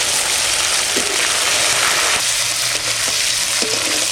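Chopped tomato, ginger paste and cumin paste fry loudly in a hot pan, a dense continuous sizzle up close with a few faint stirring taps.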